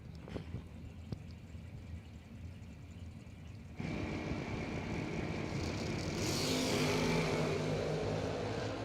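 At a drag strip a 1971 Vega wagon and a 1967 Camaro race. Quiet idle rumble comes first, then a sudden jump to a steady engine roar that swells louder toward the end as the cars launch and accelerate.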